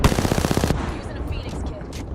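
A fast machine-gun burst in a shooter video game rattles out in tightly spaced shots for under a second, then trails off into softer battle noise and scattered effects.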